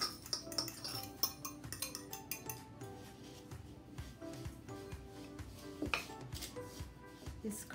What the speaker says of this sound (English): I'm gonna add my sugar to the cream, to the butter, and give it a good cream